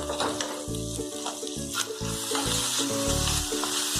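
Mutton with tomato ketchup sizzles in a pan over a low flame while it is stirred, with rhythmic scraping strokes over a constant bright frying hiss, close and clear.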